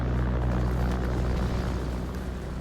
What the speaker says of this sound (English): Let's just get lots of planes in the air and try and take on this.